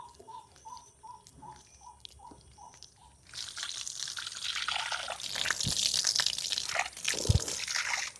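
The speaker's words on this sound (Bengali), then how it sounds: "এবারে আমি ফেস ওয়াশ দিয়ে মুখটা ধুয়ে নেব।" Water splashes and trickles steadily as a face is washed with an aloe vera face wash. Faint drips come first, then the splashing grows louder and continuous, close by.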